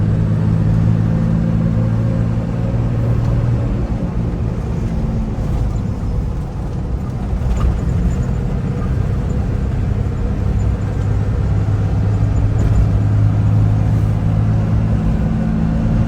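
A 1997 Toyota Land Cruiser HZJ75 truck pulls hard through its gears, a steady low engine rumble and drone heard from inside the cab, rising and holding near 100 with no talk over it.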